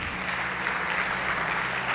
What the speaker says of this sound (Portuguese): Você pode aplaudir o Senhor então?